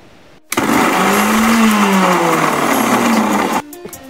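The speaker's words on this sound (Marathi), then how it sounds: "अगोदर पाणी न टाकता थोडंसं मिक्सरमध्ये फिरवून घेणार आहोत।" A mixer grinder blends coriander, garlic, green chillies and salt without water, starting abruptly into a loud, steady whirring roar with a slightly shifting pitch, then stopping after about three seconds.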